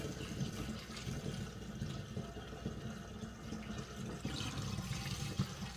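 Blackberry wine pouring steadily through a funnel, a continuous close liquid gurgle and splash lasting throughout with no talk.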